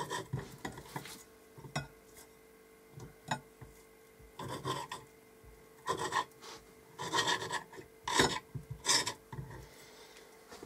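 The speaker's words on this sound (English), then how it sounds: "you want to trim off any fat" Knife strokes trimming fat off raw bacon make soft scraping and rasping sounds on a cutting surface, in short irregular bursts with small clinks between them, close and fairly quiet.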